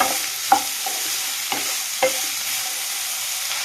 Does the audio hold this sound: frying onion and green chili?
yes